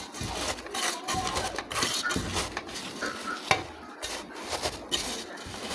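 Boiled ingredients for a spicy bhorta are worked and squished by hand in a bowl, giving soft wet squelches and occasional light knocks in an uneven rhythm, close and moderately quiet.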